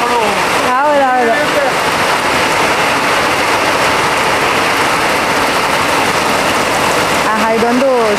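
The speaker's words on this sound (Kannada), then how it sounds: "ಎಂಥ ಮಳೆ ಬಂತು." Heavy rain pours across the palace grounds during a Dasara elephant rehearsal, a loud, dense, continuous hiss throughout, with a voice speaking briefly near the start and again at the end.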